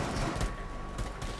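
Rapid gunfire in Rainbow Six Siege, a brief stretch of muffled shots and clattering bursts, fairly steady and not very loud.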